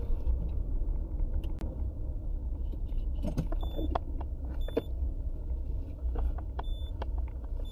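A small 1.1-litre car with very weak brakes is driven slowly down a road, heard from inside as a quiet, steady low engine rumble with occasional light clinks and rattles.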